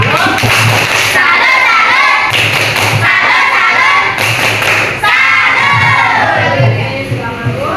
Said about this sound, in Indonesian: Oke, tepuk tangan dulu, tepuk tangan